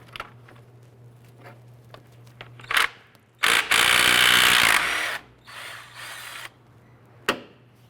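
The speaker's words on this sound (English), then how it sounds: "Using our 17mm socket, we're going to go ahead and remove this" Power tool whirs in a loud burst of about two seconds, followed by a shorter rattling run, amid scattered metallic clicks and a low steady hum, removing engine mount bolts with a 17mm socket on a 2001-2005 Honda Civic; no talking.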